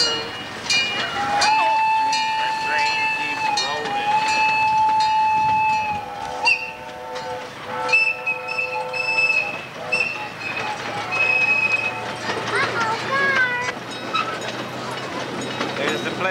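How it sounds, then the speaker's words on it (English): Small amusement park train at Flintstone's Bedrock City, South Dakota, rumbling steadily along with a couple of long tonal whistle-like toots and bright squeals, people talking over the ride. "Check on the old train again, huh? I like trains."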